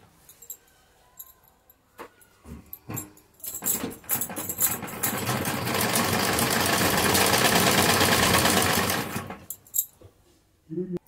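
A sewing machine stitches lace onto the hem of palazzo pants: scattered clicks and handling taps, then one loud, steady mechanical whir of about five seconds that stops sharply before more light clatter.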